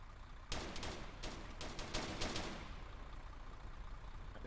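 Rapid bursts of gunfire in Arma 3 aimed at a civilian vehicle, a cluster of sharp cracking shots over about two seconds, fairly distant and moderately loud over engine rumble, then fading to a low hum.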